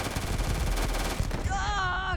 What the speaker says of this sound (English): I got a crit for shooting her in the head